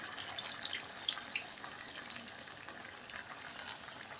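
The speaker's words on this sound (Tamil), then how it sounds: "கரைச்சி வச்ச புளியை சேர்க்குறேன்." Dissolved tamarind water is poured into a simmering crab masala. The result is a faint, soft watery hiss with a few small splashy ticks, quiet and without talk.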